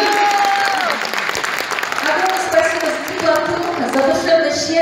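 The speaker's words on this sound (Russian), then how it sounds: "Аплодисменты, пожалуйста," Audience applause at a live Russian folk concert of accordion and song, steady and full throughout, with a sustained musical tone and some voices mixed in under the clapping.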